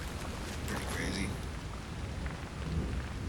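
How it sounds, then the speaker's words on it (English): Thunder rumbles over light drizzle on a stormy island in Far Cry 5, with steady rain hiss filling the scene and a dull low roll of distant thunder. "You can hear the thunder and there's a little drizzle going on"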